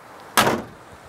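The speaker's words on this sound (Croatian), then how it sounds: "pogledajte kako se vrata na Fići zatvaraju." A Zastava Fića car door shuts with a single solid thud, close and fairly loud, followed by a short fading rattle against quiet background noise.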